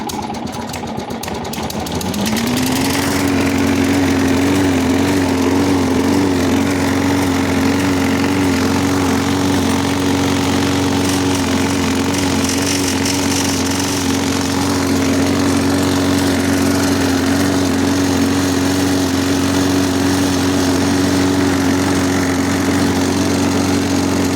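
A Sterkins 52 BTDA Inox lawn mower with a Briggs and Stratton Quantum XTS 60 engine is pulled into life after a brief rattle, then runs alone at a steady, loud, buzzing idle for the rest of the clip.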